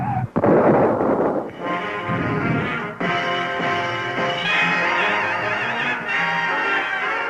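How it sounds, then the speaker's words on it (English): A 1962 Ford stock car at the Atlanta 500 NASCAR race blows a tire and spins into the guardrail: a sharp, loud burst right at the start, then a sustained roar of racing engines. "blows a tire, loses control, spinning into the guardrail"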